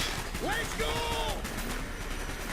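Gunfire in Call of Duty: Black Ops, a steady rattle of shots under an excited voice and swooping synthetic tones, continuous and fairly close for the whole short stretch.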